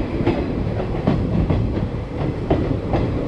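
The Thar Express rolls through Munabao station near the Pakistan border, its wheels giving a steady clickety-clack over a continuous rumbling train noise, close and fairly loud with no talk.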